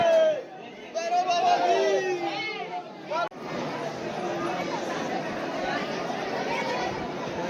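A large crowd queuing in long lines at a temple on the Bhairav peak climb, with nearby chatter and children's voices over a steady babble. Someone talks over it at first, then the crowd murmur carries on alone.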